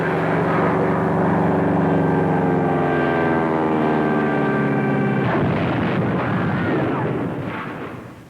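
Airplanes flying overhead make a loud, sustained engine drone that holds steady for several seconds, then roughens and fades away at the end, with no voices.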